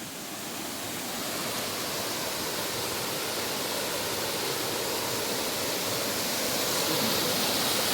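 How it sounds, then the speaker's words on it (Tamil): Waterfall on the Agasthyarkoodam mountain trek roaring as a dense, continuous rush of falling water, loud and steady throughout with no voices. "ஏகப்பட்ட அருவி வருங்க கிளாஸ் ஆகுது."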